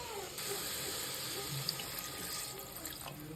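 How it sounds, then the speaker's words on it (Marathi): Water is poured from a tap or vessel into a pot of mutton in a home kitchen, a steady close splashing stream that runs for a few seconds with faint clinks. "त्याच्यामध्ये आता पाणी टाकणार आहे मी."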